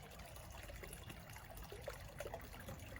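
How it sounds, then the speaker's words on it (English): Water trickles and babbles continuously from a supply beside an old forge with natural stone walls, a faint, steady flowing sound with soft splashy detail and no voices. "I love the sound of that water flowing"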